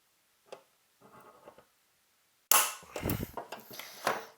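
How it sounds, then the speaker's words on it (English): A small automatic center punch snaps against a metal amplifier chassis, a sharp loud click followed by faint ticking, with quieter handling taps just before. "Then we get our little automatic center punch. And we punch 2 holes."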